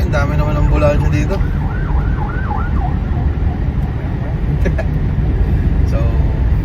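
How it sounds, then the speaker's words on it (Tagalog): Several ambulance sirens wailing along a busy street, the rising and falling tones cutting through steady traffic rumble, loud and nearby. "Ang dami naman ng ambulansya dito."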